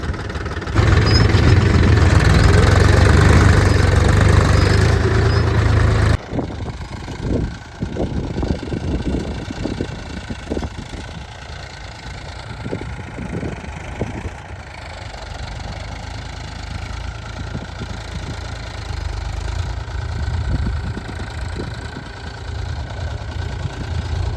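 A steady tractor engine rumbles and idles throughout while ploughing a field, loud at first and then a bit quieter with a knocking, chugging texture, with no voices over it.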